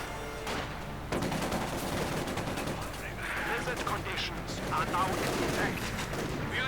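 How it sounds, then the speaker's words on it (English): Rapid machine gun bursts mix with other gunfire and explosions in a Company of Heroes 2 match. A commentator talks over the busy stream of battle shots, which stays dense and loud throughout. "a quick MG crew inside there with a lighter MG, though still quite devastating"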